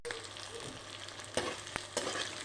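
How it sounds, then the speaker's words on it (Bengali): Khichuri with coconut flakes, peanuts and tomatoes stirred in a pan, giving a steady soft sizzle with a few sharp spoon scrapes against the pan, close and fairly quiet. "ভালোভাবে একটু নাড়াচাড়া করে নেব"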